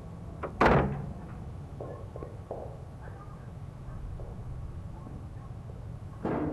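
A door opening in the Murder House game, a sharp wooden knock or latch thud near the start, faint creaks and taps in quiet ambience, then another thump at the close.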